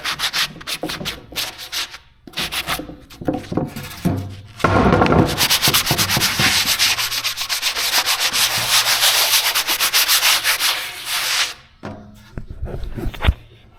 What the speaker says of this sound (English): I'm just going through and any little tags that are on there, she gets sanded off there.